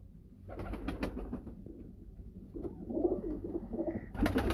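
A breeder pigeon on a rooftop coos softly in several low rolling calls, fairly faint and close, with light background noise and no speech.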